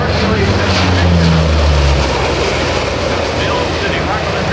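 A C-130H Hercules from the Ohio Air National Guard roars past in an airshow flyby, its four propeller engines a loud, broad, continuous drone with a low throb, under an announcer's voice.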